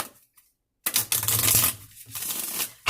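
A deck of tarot cards is riffled and shuffled close up, giving a dense burst of papery flicking and slapping after a short silence, then softer shuffling that continues to the end.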